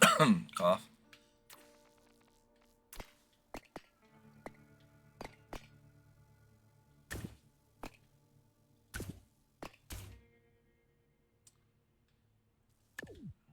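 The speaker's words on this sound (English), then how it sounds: "Cough." A single short cough, fairly close and clear, stands out among scattered clicks and light game noise while someone plays Trailmakers, a vehicle-building game.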